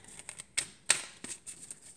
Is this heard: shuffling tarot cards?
yes